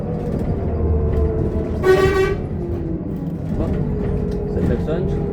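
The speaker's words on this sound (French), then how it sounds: "Ça klaxonne, je ne comprends pas pourquoi" A single short blast of an Irisbus Citelis 12 CNG city bus horn sounds amid steady engine rumble and road noise, with traffic continuing around it.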